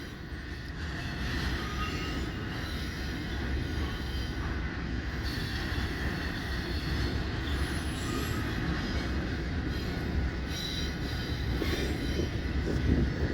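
An NS 21J freight train rolls past at close range, its steady heavy rumble of rail cars carrying on throughout with a thin metallic wheel squeal riding on top and no voices.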